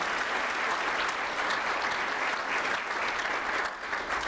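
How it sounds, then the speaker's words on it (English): An audience at a breakfast event claps in a steady, dense round of applause, moderately loud and continuous for a few seconds, with no one speaking. "Round of applause for that"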